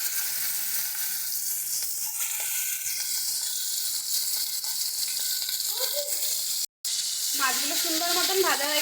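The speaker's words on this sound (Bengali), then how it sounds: "এক এক করে চিংড়ি মাছগুলো দিয়ে ভেজে নেব।" Prawns frying in hot oil, a steady, loud, close sizzle that runs throughout, with a brief break and then sharper bubbling crackle near the end.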